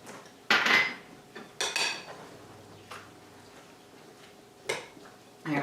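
Metal utensils scrape and clank against a buttered 9 by 13 baking pan as sausage stuffing is spooned in, a few loud clattering bursts separated by quieter pauses in a kitchen.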